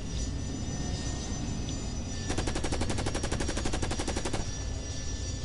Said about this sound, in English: That looks like an AA gun, considering the amount of damage it's done to me.